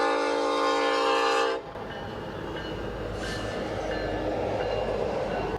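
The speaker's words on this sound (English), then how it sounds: "That's another train in case you out there in TV3 land can't hear it." A train passing outdoors in Frazee, its horn blaring loud and steady before cutting off, leaving the rumble and clatter of the cars rolling by close at hand.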